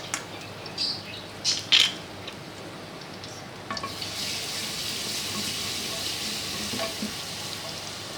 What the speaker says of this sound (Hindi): इसको हम डाल के हल्का सा फ्राई करेंगे।